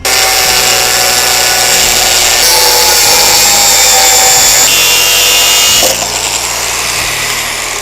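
A power tool cuts a wood-pattern fascia board for a house fence, giving a loud, continuous high-pitched whine that steps in pitch several times and stays close and unbroken throughout.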